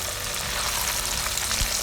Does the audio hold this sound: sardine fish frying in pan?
yes